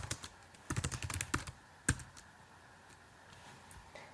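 Typing on a computer keyboard while entering years into a spreadsheet: rapid bursts of close, crisp key clicks with short pauses, one sharper keystroke standing out, then quieter scattered taps.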